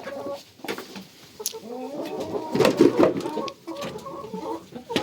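Several hens cluck and squawk in agitated bursts, a brief scuffle of flapping and sharp cries peaking midway, fairly close.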